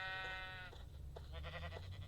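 Sheep in the Minecraft video game bleat in a short wavering cry, followed by a fainter second bleat over a steady low background hum.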